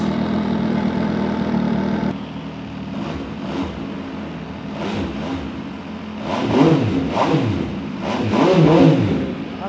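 A 2019 European big bike with a dry clutch starts up, settles into a lumpy idle, then gives several sharp throttle blips that rise and fall, loud and close, with no talk.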